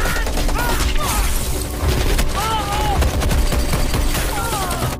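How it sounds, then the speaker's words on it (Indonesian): Continuous rapid gunfire rattles without pause, bursts overlapping with booms, while shouting voices rise above the barrage. "keadaannya sangatlah kacau karena tembakan tidak ada henti-hentinya dari pihak lawan"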